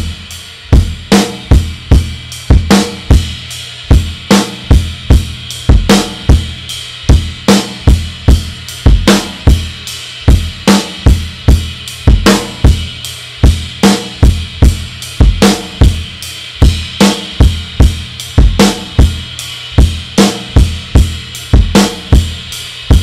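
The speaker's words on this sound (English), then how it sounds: "We're just playing the eighth notes in a regular pattern on the ride cymbal." Eighth notes struck in a steady, even pattern on a drum kit's ride cymbal, loud and close, with low accented hits on regular beats underneath and no talking.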